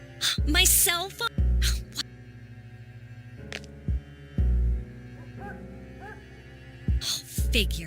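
A cell phone buzzing in the video game Persona 3 FES: several low, droning vibration pulses, each lasting about half a second, rising clearly above a quiet hum, with short vocal gasps and squeaks between them.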